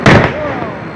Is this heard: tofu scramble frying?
no